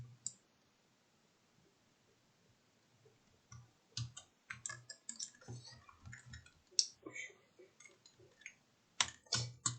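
Computer keyboard keys are pressed while a Roblox escape game is played, starting with a lone click, then quiet, then a flurry of irregular close taps and clacks at low volume with no talking.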